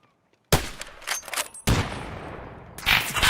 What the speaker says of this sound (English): He's trying to shoot me through the shit.